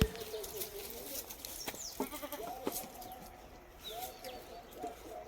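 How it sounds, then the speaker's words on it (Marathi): Goats bleat a couple of times while being fed in the morning in a noisy outdoor setting, with faint bird calls in the background and no talking. "शेळ्यांना खाया टाकले आपल्या"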